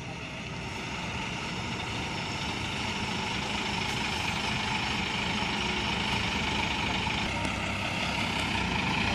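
Front-engined Noaka intercity bus idling in a terminal, a steady low diesel rumble with broadband hum that holds constant and loud throughout, no talk over it.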